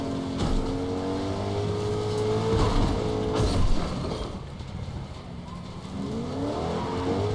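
Car engine in the video game Fortnite, driven on a burst tire, drones with shifting harmonic tones and scraping, skidding noise at moderate loudness throughout, with no talk.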